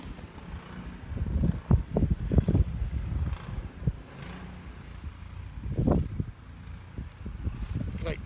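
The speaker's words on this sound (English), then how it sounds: "the wind is blowing this stuff so strong that it's blown snow in between these" Strong wind from a New England blizzard gusts and buffets against the microphone in uneven bursts, rumbling loudly close up, with a person talking over it.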